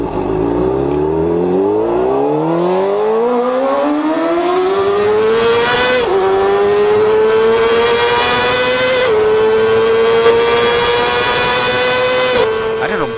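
A motorbike riding off, its engine note climbing steadily in pitch as it accelerates away in stepped gear changes, loud and continuous throughout, with no talk over it.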